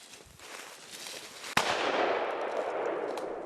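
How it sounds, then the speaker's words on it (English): A hunter's gunshot cracks sharply once in the open Russian Far East wilderness, followed by a sustained rustling wash of careful footsteps or movement through brush, fairly close and steady. "Even after gunshots are fired, Ivan's footsteps are very careful."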